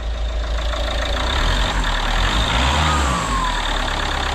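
Peugeot 407 2.0 HDI diesel engine running at idle after a hard restart, a loud, steady low rumble with a faint whistle sweeping across it, close and continuous with no talk.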